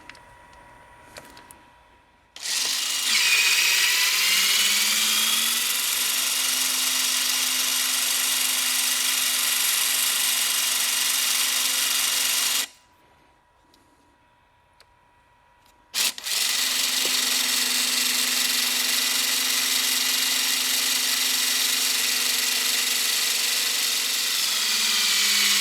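A HYTORC centerlock pneumatic wheel gun backs off a centerlock wheel nut in two loud, steady whirring bursts of about ten seconds each, separated by a short pause, with no talking.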